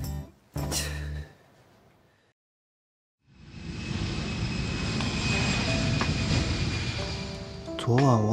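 Airplane engines on a passenger aircraft before takeoff, a loud steady roar that builds in after a short silence and holds, following an earlier brief burst of sound.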